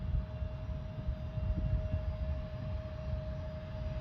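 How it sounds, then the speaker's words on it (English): An Air Canada CRJ 200 regional jet passing on a foggy evening at Cleveland, a steady low rumble with a faint whining tone held throughout, moderately distant and with no talk. "It's our CRJ 200 in the new Air Canada livery."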